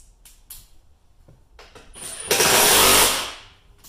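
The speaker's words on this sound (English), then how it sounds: "I'll get my drill." A power drill whirs in a short, loud burst against a Honda Civic driver door, following a few quiet clicks and taps of handling.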